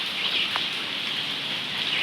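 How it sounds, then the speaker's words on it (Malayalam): Heavy rain falls steadily outside a home in Kerala, a dense, even hiss that stays loud and close throughout, with no voices. "അപ്പോൾ മഴ പെയ്തുകൊണ്ടിരിക്കുകയാണ് നല്ല മഴയാണ് കേട്ടോ"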